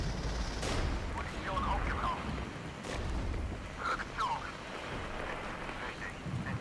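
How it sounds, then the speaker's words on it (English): Artillery barrage and gunfire in a video game, a dense continuous roar of distant explosions and shots with sharper bursts near the start and middle, steady and loud throughout. "Now I'm gonna hold off an artillery barrage."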